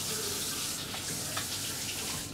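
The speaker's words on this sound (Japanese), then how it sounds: "湯煎用のね、寸胴茶にお湯を入れていきます" Hot water from a tap gushes steadily into a large stock pot for a water bath, a continuous close splashing wash with no talk.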